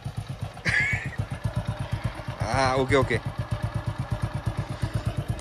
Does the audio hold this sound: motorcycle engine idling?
yes